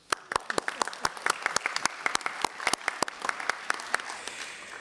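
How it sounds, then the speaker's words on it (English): An audience at an aviation security conference session gives a round of applause: dense, steady clapping with sharp individual claps throughout, fairly close and moderately loud, with no speech. "maybe you should applaud yourselves"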